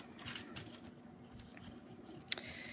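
Scissors trim a piece of deco foil for a card, giving quiet, scattered snips and faint rustling at close range, with one sharper click near the end.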